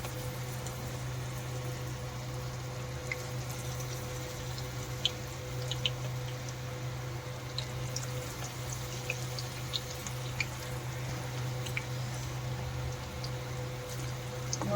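Chicken pakora batter sizzles in hot oil, a steady frying crackle with small pops and drips scattered across a constant hum, no talking.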